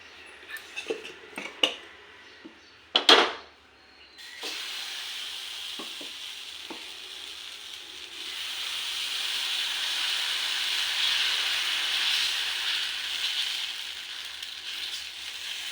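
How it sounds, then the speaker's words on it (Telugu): Dosa batter hits a hot pan after a few sharp clatters, then settles into a loud, steady hiss of sizzling that swells slightly and holds to the end, with no talking. "దోశ వేస్తున్నాను."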